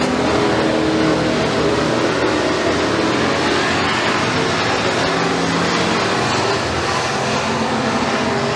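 Street stock race cars roar around a dirt oval during a feature race, a dense, loud blend of several engines at full throttle with no pause, the pitch shifting slightly as the pack passes through the turns.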